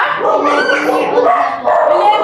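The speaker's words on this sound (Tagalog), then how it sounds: "maingay yung aso" Small dogs yapping and whining in a busy, continuous run, with people's voices mixed in close by.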